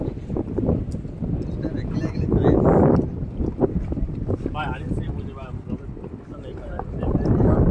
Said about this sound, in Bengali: এখানে আমরা স্পিড বোটে স্নেক আইল্যান্ড দেখতে এসেছি।